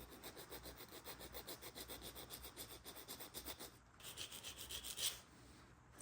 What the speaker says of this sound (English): So I'll just start filing up the ring again